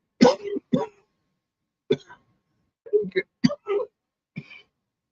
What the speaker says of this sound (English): excuse the cough again.